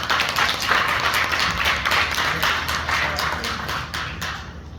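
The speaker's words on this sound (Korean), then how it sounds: "큰 박수 부탁드리겠습니다." An audience applauds at a policy forum in Gumi, South Korea, producing steady, moderately loud clapping from a medium-sized crowd that slowly tapers toward the end.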